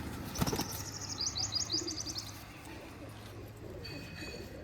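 Pigeons on a rooftop give a sharp burst of wing flapping, followed by short chirps and soft cooing at moderate distance, over steady background noise.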